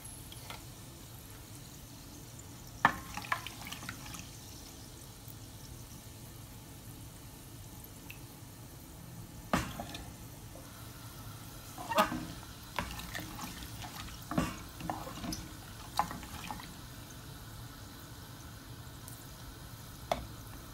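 Onions hitting hot tempering oil spiced with cardamom, cloves and black pepper, giving a low steady sizzle with scattered crackles and sharper pops, close and moderate in level, with no talk.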